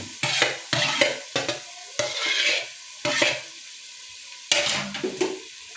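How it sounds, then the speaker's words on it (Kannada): Carrot, potato and tomato are stir-fried in a pan for hotel-style vegetable pulao, a spatula scraping in about eight rhythmic strokes over a constant sizzle, close and fairly loud. "ಇವಾಗ ಇದನ್ನ ಚೆನ್ನಾಗಿ ಫ್ರೈ ಮಾಡಿ."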